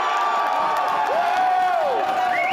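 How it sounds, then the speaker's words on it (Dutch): A crowd at a rugby match cheers a deciding win, loud and continuous, with shouts and whistles rising over the steady roar throughout. "En let op het gejuich."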